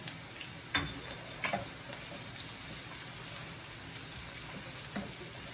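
Minced ginger frying in a pan with onions while cooking adobo Cajun crabs, a soft, even sizzle running throughout, fairly faint, broken by a few sharp utensil clicks and scrapes against the pan; no voices.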